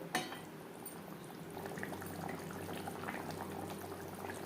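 Fried fish simmers in curry gravy, a low, steady bubbling and gentle sizzle that carries on without a break, faint and close. A brief clink comes at the start and nobody talks.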